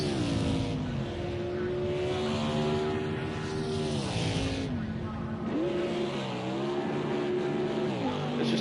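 A Trans Am race car revving hard for burnouts in the pits at Long Beach, its engine note rising and falling in long sustained pulls, loud and close, with crowd noise faint underneath.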